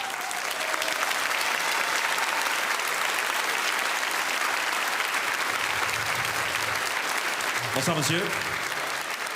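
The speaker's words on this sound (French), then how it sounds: "Mesdames, Messieurs, je vous demande d'applaudir Monsieur Roger Talon." Studio audience of a television variety show applauding a guest, continuous loud clapping across the whole stretch, with a short greeting spoken near the start and another voice briefly near the end.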